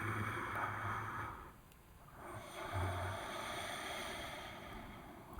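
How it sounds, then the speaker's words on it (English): Slow ujjayi breath drawn through a constricted throat, a soft snore-like rasp with airy rushing texture, close and quiet, rising and falling in two long cycles. "Ujjayi breathing, it sounds like this."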